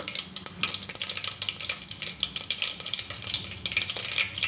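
Mustard seeds, cinnamon, cloves and bay leaf sizzle in hot oil for a rice dish, giving a steady crackling fry broken by crisp spattering pops and a few light clinks of a stirring utensil against the pan.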